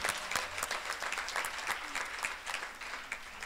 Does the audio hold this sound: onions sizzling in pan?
no